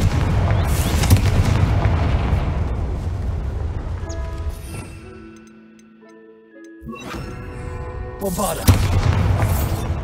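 A Confringo spell explodes in the video game Hogwarts Legacy with loud, rumbling booms that fade into tonal, chiming game effects before another heavy blast erupts.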